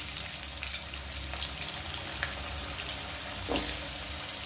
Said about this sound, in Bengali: এবার আমি সবজিগুলো তেলে এতেই দিয়ে দেবো কড়াতে তেলেতেই দিয়ে দেবো